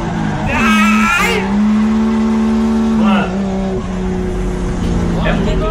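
A car drifts in Japan with the handbrake pulled, tires squealing in long, wavering shrieks over a loud, revving engine, and excited voices shouting close by.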